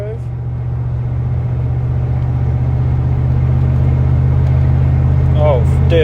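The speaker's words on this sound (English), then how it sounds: "Cruising in overdrive." A 2004 Chevrolet Silverado with a 6.0 engine cruising in overdrive: a steady low engine hum and road rumble from inside the cab that grows slightly louder, with a faint voice near the end.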